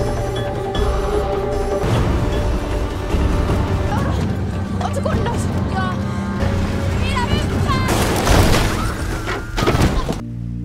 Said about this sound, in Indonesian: mobil yang ditempati oleh Nora dan Ida pun mengalami kecelakaan parah.